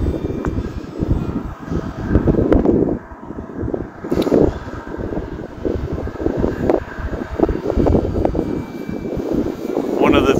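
An FMS Pitts V2 1400mm radio-controlled biplane takes off on a sunny day near snow, its electric motor buzzing and rising and falling at moderate distance, mixed with wind and with people talking over it.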